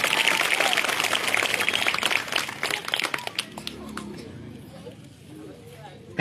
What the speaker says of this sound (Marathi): जोरदार टाळ्या आपण यांच्यासाठी वाजवा.